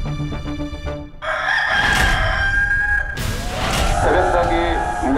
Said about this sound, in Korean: 새벽닭이 울렸습니다.